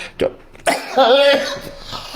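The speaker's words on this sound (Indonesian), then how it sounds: "Aduh, batuk, Pak." A sharp cough bursts out close by, followed by a strained voiced groan.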